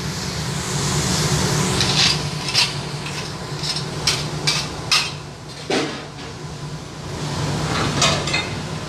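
Mongolian barbecue cooking on a giant hot grill at a restaurant in Rosarito, with a steady loud sizzle under scraping and clanking of metal utensils stirring food on the griddle.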